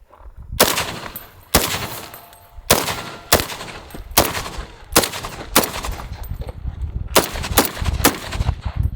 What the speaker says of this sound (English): recoil impulse on a 16-inch M1A 308